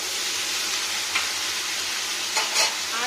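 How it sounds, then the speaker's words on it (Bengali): Cauliflower fries in a hot pan with a steady, close sizzle that fills the whole stretch. A few brief stirring scrapes rise above the hiss, and there is no talking. "এবার দিয়ে নেবো ফুলকপি"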